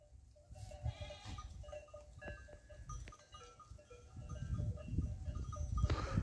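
A herd of thirsty goats bleats in the midday heat beside a dry fountain, scattered calls from several animals rising over a low, busy rumble of hooves and movement.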